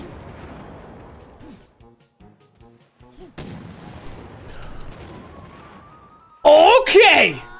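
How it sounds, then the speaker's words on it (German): A cannonball exploding in an Alt F4 deathrun video game, a sudden loud blast bursting in after quieter game sounds and a sharp mechanical click, ringing briefly. "Sobald die Kanonenkugel weg explodiert"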